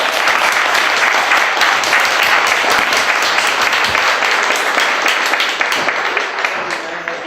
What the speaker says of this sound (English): final round of applause for our panelists